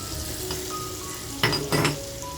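Garlic sizzles in a cube of melted butter in a pan on a gas stove, a steady close frying hiss broken by two louder crackling bursts near the end, with a faint clink of utensils.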